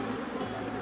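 Honey bees buzzing at a hive during beekeeping, a steady close droning hum with no speech over it.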